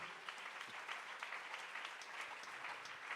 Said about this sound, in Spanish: Dele ese aplauso al Señor, hermano.